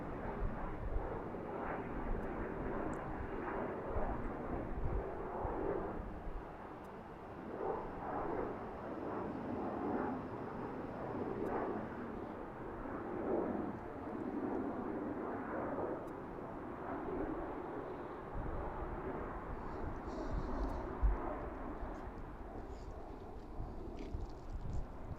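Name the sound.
airplane taking off and passing overhead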